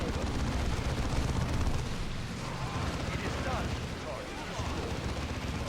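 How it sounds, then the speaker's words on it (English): A frag grenade explodes amid dense battle noise in the Dawn of War 2 video game, with continuous rumbling blasts and gunfire-like crackle layered thickly throughout. "Have a frag grenade."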